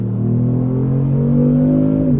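A 2018 Kia Stinger GT with its twin-turbocharged engine accelerates hard, a loud steady engine drone rising in pitch from inside the car, with no talking.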